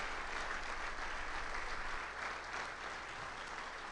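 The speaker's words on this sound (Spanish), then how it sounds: "Y Él se merece un aplauso." A congregation at a Sunday church service applauds, a dense, steady wash of many hands clapping that continues evenly for the whole span, with no one speaking over it.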